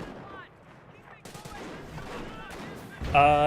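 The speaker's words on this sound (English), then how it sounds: "Here comes 25 pounder. First shot." Artillery from a 25 pounder fires in the video game Company of Heroes, with a loud blast near the end after a stretch of game sounds, while a commentator talks over it.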